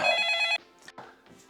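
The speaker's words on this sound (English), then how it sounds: "phone's ringing, brother." A telephone bell rings loudly and steadily for about half a second, then cuts off, followed by quiet scattered vocal sounds and light noises.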